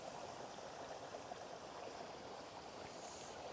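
A brook pours steadily into a corner pool on the River Lyd in Devon, a continuous close rushing and gurgling of water with no pauses and no voices.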